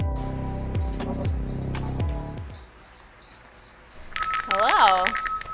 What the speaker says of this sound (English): Why are there crickets? Why is he doing crickets?